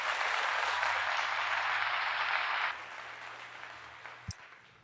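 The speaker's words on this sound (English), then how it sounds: "Round of applause for that." An audience gives a short burst of clapping that cuts off abruptly after a few seconds, leaving a quiet room with a low hum and one sharp knock.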